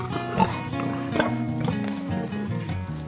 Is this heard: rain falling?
no